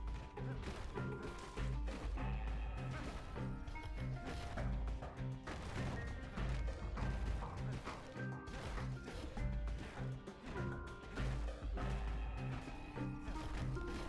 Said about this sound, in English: Folks who fouled up would do their time here, smashing things to bits.